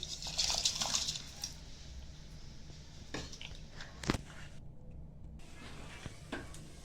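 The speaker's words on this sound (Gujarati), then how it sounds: "હવે આ ખીચડી આપણે એમાં ઉમેરી દેવાની છે ધોયેલી" Washed rice and lentils for Kathiyawadi khichdi tipped into a pot of heating water, a splashy liquid rush at the start, then quieter water noise with a few soft knocks.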